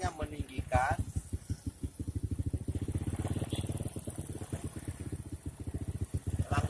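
A Supra underbone motorcycle engine idles with a rapid, steady thumping pulse during carburetor idle-screw adjustment, running close under someone speaking throughout.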